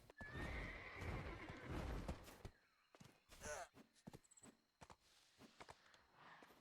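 Horse in the game Black Desert Online neighing loudly and clip-clopping as it runs up, hooves thudding close by, followed by scattered softer hoof steps and a brief whinny amid game ambience.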